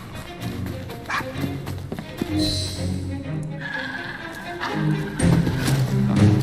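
A dog barks in Assassin's Creed Syndicate, a few scattered barks over busy street ambience with clopping hooves and a horse whinny, fairly close and moderately loud.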